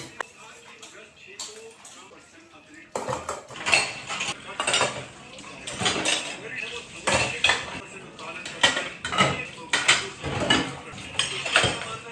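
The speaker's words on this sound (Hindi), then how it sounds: "उसके बाद यहाँ पे मैं बर्तन धोना शुरू करूँगी" Dishes, steel utensils and pots being washed at a home kitchen sink after lunch, quiet at first, then repeated close clinks, clanks and scraping clatter in uneven bursts with running water.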